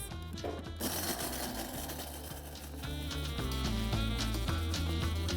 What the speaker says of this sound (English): So I'm going to go ahead and grind these spices.